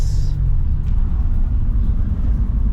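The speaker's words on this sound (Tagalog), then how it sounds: "we are test riding our WRX" Subaru WRX project car on a test drive after an engine repair, a steady low engine and road rumble from inside the cabin, loud and continuous with no talk.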